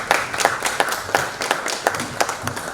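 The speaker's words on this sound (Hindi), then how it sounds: "लेकिन अब जबकि ताली बज चुकी है" Audience clapping at a literary festival session on Awadh, cinema and music, a brisk, uneven patter of hands from a modest crowd continuing throughout.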